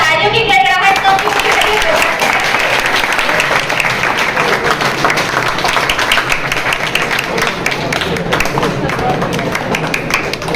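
Sustained applause from an audience at a Teachers Day function in a classroom setting, loud and dense throughout, with crowd noise and some voices mixed in.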